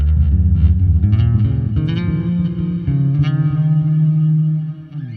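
Guitar played through an iRig HD X mobile interface with heavy effects, thick distortion, chorus and reverb, sustains low, droning chords with a few brighter picked notes on top, loud and continuous before fading at the end.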